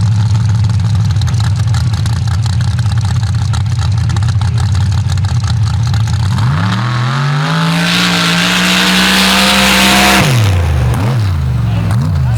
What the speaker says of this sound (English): 705 cubic inch engine in this machine.